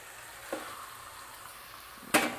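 Washed chicken pieces, half a kilo, being sautéed in oil before any masala is added, giving a soft steady sizzle with two brief louder bursts of stirring or spattering.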